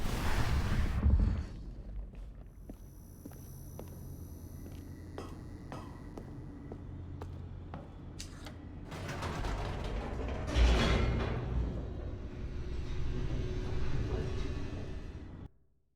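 An elevator in the video game The Stanley Parable grinds and creaks with mechanical clanks and ratcheting, a sustained moving rumble that swells midway before cutting off.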